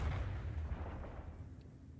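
Lance weapons of a voidship firing in a space combat video game, heard as a heavy, continuous low rumbling boom that stays loud throughout with slight fading toward the end.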